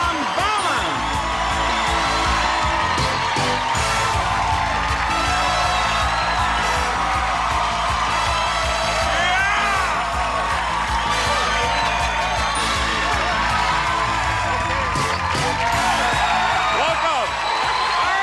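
A game show studio audience cheers, whoops and applauds in a dense, loud, sustained roar with yells rising throughout, and a voice speaks over the noise.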